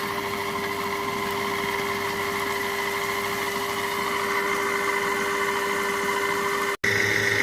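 A Compact Cook Pro food processor runs at speed 4 to 5 with a steady, continuous motor whine and drone, close and even, briefly cutting out near the end.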